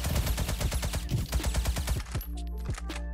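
Rapid automatic AK rifle fire in the browser shooter Krunker.io rattles out in fast, evenly spaced shots for about two seconds, then stops, leaving a few scattered game sounds.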